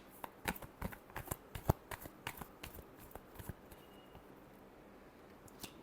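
Tarot cards shuffled by hand up close, a quick irregular series of soft crisp riffles and slaps, faint and dry in a quiet room.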